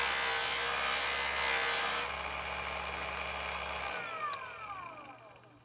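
A JOOLTOOL buffing wheel spins at high speed, a steady whirring motor hum with a broadband rubbing hiss as a polymer clay bead is held lightly against the buff, then the motor winds down.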